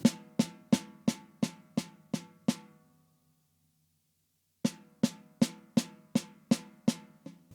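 A drum is struck softly with a tight grip on the stick in a steady run of even, short hits, a brief silence, then another evenly spaced run; each stroke decays quickly and sounds tight.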